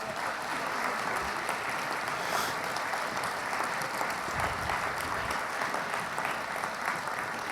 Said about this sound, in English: One more round of applause for this amazing group.